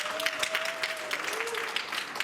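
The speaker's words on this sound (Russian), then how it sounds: "Я думаю, это заслуживает того, чтобы поблагодарить Марселя еще раз аплодисментами" An audience in a hall applauds to thank a performer at a first-year student show, dense steady clapping from a crowd throughout, with a faint tone and a brief voice underneath.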